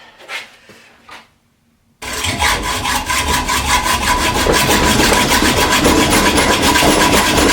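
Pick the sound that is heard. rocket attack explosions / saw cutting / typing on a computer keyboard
saw cutting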